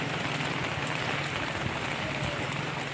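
Heavy rain pours down during a record cloudburst in Kolkata, a dense, steady hiss that holds at one level for the whole stretch with no voices over it.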